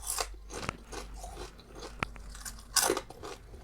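A person crunching and chewing a cockroach, with crisp bites and wet chewing in close, irregular bursts, a sharp snap partway through and a louder crunch near the end, with no talking.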